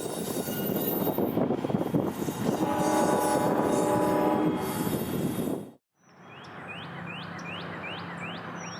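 CSX train 98 departing north from a station on the A Line near Savannah: loud rumbling cars with squealing wheels and tonal screeches, then a sudden drop to quieter rolling with repeated sharp chirping squeals.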